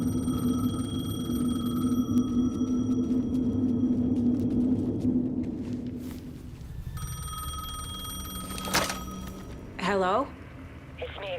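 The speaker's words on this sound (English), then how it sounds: "The payphone was ringing." A payphone rings in the video game Alan Wake 2, repeated trilling bell bursts over a low ambient rumble, pausing midway and then resuming, with a brief voice-like sound near the end.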